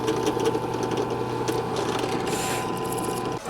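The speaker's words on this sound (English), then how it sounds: "We need to drill ourselves an alignment point up on the headstock side of the neck." A drill boring a small alignment hole into the headstock end of a custom Telecaster guitar neck, a steady close whirring motor drone running throughout, alone and without voices, ending with a brief dip.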